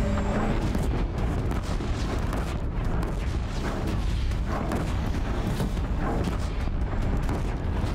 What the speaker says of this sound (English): Guy's dropping artillery shots.